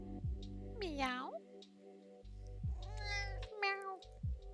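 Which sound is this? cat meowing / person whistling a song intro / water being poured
cat meowing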